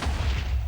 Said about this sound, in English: nothing up top gets hurt by the explosion